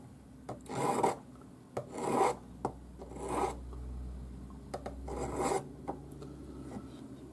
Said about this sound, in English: the checkering file makes these tiny grooves